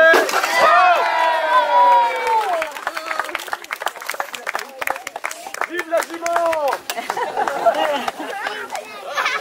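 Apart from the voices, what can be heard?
applause for the horse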